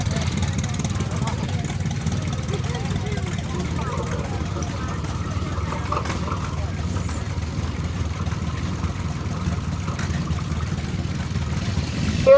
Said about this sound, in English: Corey Thompson on his John Deere GP.